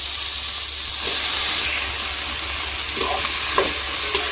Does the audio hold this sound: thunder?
no